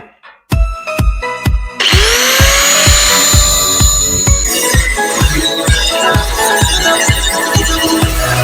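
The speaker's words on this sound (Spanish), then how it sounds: "empezamos a cortar el disco" A power tool cuts through a metal disc for a handmade post-hole digger, starting with a few sharp knocks and then a loud, ringing metallic grind that carries rhythmic thumping pulses throughout, close and with no talking.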